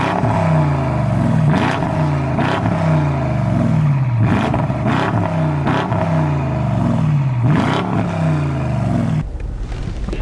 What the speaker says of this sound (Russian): Мы сейчас едем на BMW X6 G06, 5 литров.